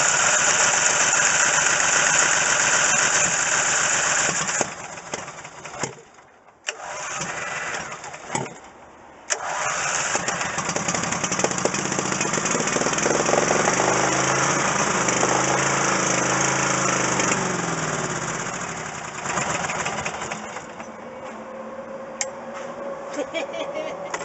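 Coleman Vantage 7000 portable generator engine running steadily with its choke lever being adjusted, a loud continuous drone that dips briefly a few times before settling into an even run, close to the microphone, with a voice talking over it.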